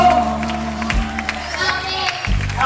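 Applause at a carnival variety show, a crowd clapping under music with held tones and a low beat, fairly loud and continuous with some cheering mixed in.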